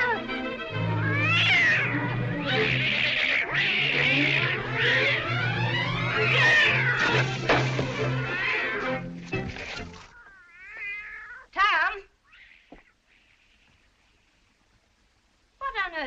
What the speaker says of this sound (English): Cats always act so when they're having a good time.